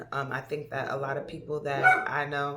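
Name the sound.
pet dog barking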